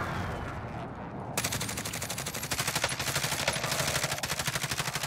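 Rapid automatic gunfire in Warzone, a steady stream of evenly spaced shots that starts after a brief quieter moment and runs loud to the end.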